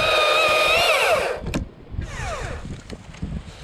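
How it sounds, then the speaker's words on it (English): A Husqvarna electric chainsaw, used by an arborist pruning a tree, whines loudly at first and then winds down. A sharp snap follows, then a shorter rev that fades into scattered rustling and clatter. "Husqvarna electric saw."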